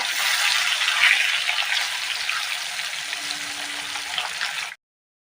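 Loud, steady sizzling and crackling of rohu fish frying lightly in hot oil, close up and continuous, cutting off abruptly near the end.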